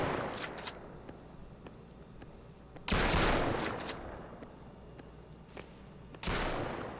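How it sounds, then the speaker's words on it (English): Shotgun blasts in a first-person shooter, played while pushing forward and running low on ammo: a few separate loud booms spaced seconds apart, with a faint rattle of smaller shots and no voices. "So now I'm about to run out of ammo as I'm pushing up with the shotgun."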